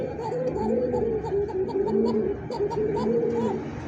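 A white Arabian kokka pigeon coos in a close, repeated rolling pattern of low throaty calls, steady throughout with faint background noise.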